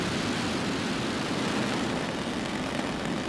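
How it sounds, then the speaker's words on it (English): Falcon 9 rocket at ignition and liftoff from the Cape, a dense, continuous roaring rumble that stays loud and unbroken throughout, with no voices. "5, 4, 3, 2, 1, ignition, and liftoff"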